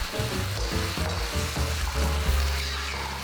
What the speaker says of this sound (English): Now stir this around to make sure the shrimp is evenly coated.